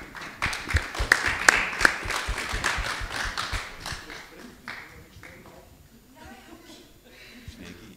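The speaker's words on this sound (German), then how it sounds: "Applaus." Applause breaks out from an audience at a foundation meeting in Frankfurt, a burst of dense clapping that gradually thins and fades, with scattered chuckles and murmured talk underneath.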